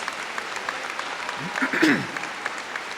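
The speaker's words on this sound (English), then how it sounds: "Let's give the Crumblies a round of applause" Applause from a university commencement crowd, a sustained moderate clapping wash heard from some distance, with a voice or shout briefly rising over it midway.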